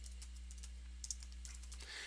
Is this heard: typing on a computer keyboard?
yes